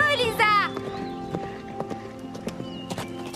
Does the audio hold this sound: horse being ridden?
yes